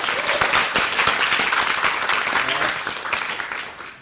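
An audience applauds at a public forum on public childcare and state-run daycare centres, dense loud clapping that holds steady and then tapers off toward the end.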